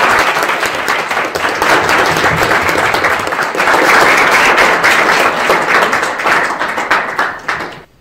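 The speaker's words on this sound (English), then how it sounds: "So let us please give her one of many round of applause that she deserves." An audience gives sustained, dense applause for Regina Longo at a documentary event about the Albanian Cinema Project. The clapping stays steady and fairly close for several seconds, then tapers off abruptly at the end.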